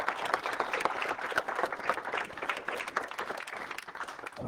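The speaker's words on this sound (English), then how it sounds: "And a nice round of applause for them." A crowd at a New York City billiards hall applauds the restaurant staff, a moderate, fairly distant round of clapping that stays continuous throughout.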